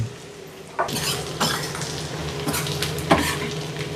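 Onions and curry leaves fry in a pan with steady sizzling, while a spoon makes several sharp scraping stirs against the metal at irregular intervals, close up and without speech.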